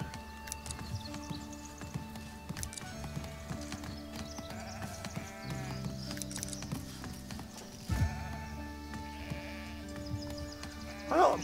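Sheep bleat repeatedly in the game Foundation, several calls rising over soft background music, with some hoof-like clopping mixed in.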